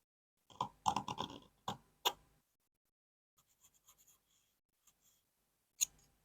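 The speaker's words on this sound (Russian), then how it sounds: "Сейчас проведем линию." A pencil scratches a line across a metal sheet template. The dry, scraping strokes come up close in a quiet room, followed by a few faint taps and a last sharp scratch.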